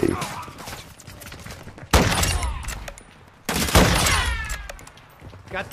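Rapid gunfire from Modern Warfare II, loud and close, arriving in three dense bursts with brief lulls between them, while a voice talks over the shooting.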